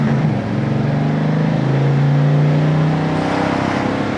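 A 1950 Mercury with a flathead engine accelerates hard. The steady, loud engine drone climbs slowly in pitch as it is heard from inside the car.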